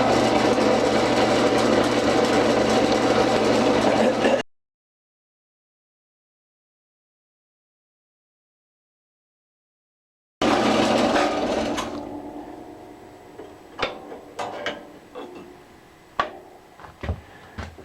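A loud power saw cuts across a small clamped disc, a dense buzzing burst that breaks off into silence. Afterward come quieter mechanical whirring and sharp clicks and knocks.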